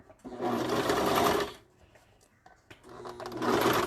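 A cover stitch sewing machine stitches leggings in two loud, steady bursts of rapid mechanical whirring, separated by a quieter pause with light handling noise.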